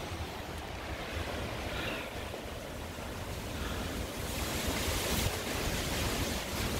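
Strong outdoor wind gusting across a garden of fruit trees, a continuous broad rushing buffet on the microphone that swells louder toward the end, with no talking.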